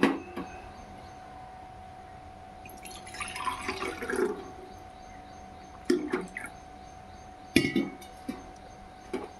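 Water is poured from a glass into a cooking pot of rice for khichdi, with a short splashy pour and several sharp clinks of glass and metal against a quiet background.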